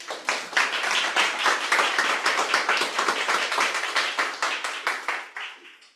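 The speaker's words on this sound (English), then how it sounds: "Not when the applause is going on" Audience applauding a speaker: dense, sustained clapping from a crowd at even loudness for several seconds, then tapering off near the end.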